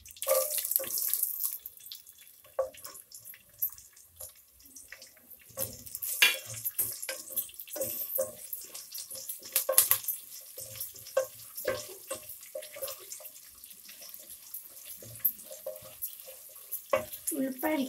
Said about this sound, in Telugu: ఇప్పుడు ఉల్లిపాయలు వేద్దాం. పోపు వేగిపోయింది.